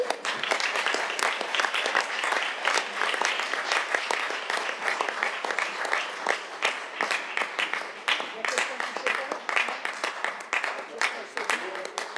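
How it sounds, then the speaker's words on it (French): A municipal council and its audience applaud a newly elected deputy mayor, sustained clapping from many hands in a meeting hall with some murmured voices mixed beneath it. "Vous pouvez l'applaudir"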